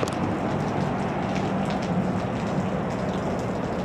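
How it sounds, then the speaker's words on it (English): Steady rain falls during a bike tour through Texas, a dense, even hiss of drops pattering on surfaces close by, continuous for the whole stretch with no voices. "we were actually only seeking some shelter from the still ongoing rain"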